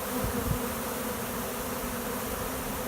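A swarm of honey bees fans its wings in a dense, steady buzzing hum, loud and close throughout with no speech.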